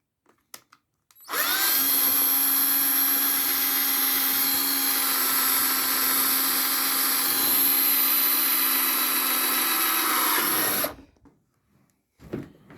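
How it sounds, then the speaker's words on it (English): A power drill whines steadily at high speed for about ten seconds as the bit drills through plastic, loud and close, then cuts off abruptly with a few small clicks after. "go back and forth with the drill bit, pushing it through the hole"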